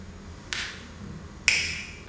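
Two sharp, isolated finger snaps from a storyteller, about a second apart, crisp and fairly close against a quiet room background.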